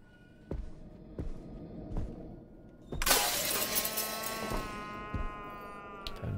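Glass smashes loudly in the horror video game Visage, a sudden sharp burst followed by a ringing, scattering tail. A few dull knocks come before the break.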